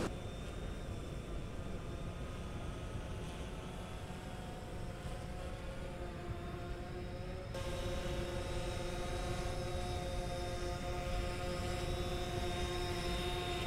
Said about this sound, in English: I better get the drone up now